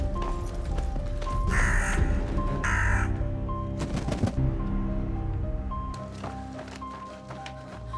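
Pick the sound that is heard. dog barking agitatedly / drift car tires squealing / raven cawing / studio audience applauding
raven cawing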